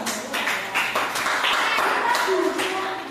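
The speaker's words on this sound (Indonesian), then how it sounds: "tepuk tangan untuk kelompoknya" Schoolchildren in a classroom clap for a group after its presentation, a dense burst of handclaps lasting a few seconds with a few voices mixed in.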